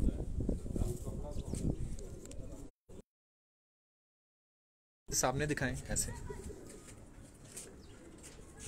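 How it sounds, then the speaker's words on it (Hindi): Domestic pigeons coo in a home loft in Quetta, low repeated calls heard close by under steady conversation, with a sudden cut to silence midway before the talk and cooing resume. "ये हमारे घर के चप कबूतर हैं"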